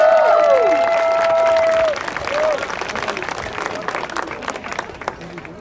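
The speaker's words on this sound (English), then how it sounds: "Please give her a round of applause" A crowd claps at an outdoor rally and vigil. A voice speaks over the first moments, then the clapping carries on loud and steady before thinning out.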